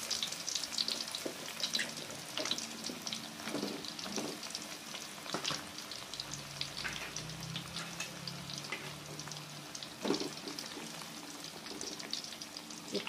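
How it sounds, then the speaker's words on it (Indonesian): Steady oily sizzling and crackling of eggplant frying in a pan of oil, with occasional louder pops and spatters, no voices. "kita goreng terongnya."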